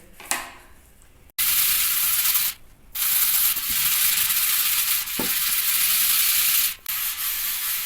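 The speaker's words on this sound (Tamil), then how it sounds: "கீழெல்லாம் அழுக்கு ரொம்ப இருக்கிறதுனால வந்து நான் இரும்பு ஸ்க்ரப்பர் போட்டிருக்கேன்" An iron scrubber rubs hard against a grimy copper vessel, making loud, continuous harsh scraping strokes in long stretches broken by short pauses, with no talking.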